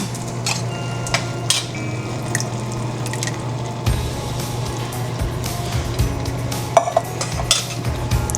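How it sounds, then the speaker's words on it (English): Tomato sauce is stirred in a pot, a spoon knocking and scraping against the metal in scattered taps over a steady low hum, close by with no voices. "I'm just going to stir this up."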